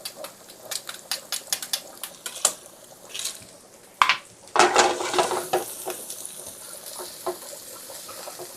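Pressed garlic sizzles in a pan for sausage and angel hair pasta, a soft crackling hiss under stirring clatter and utensil taps, with the frying swelling louder in the second half.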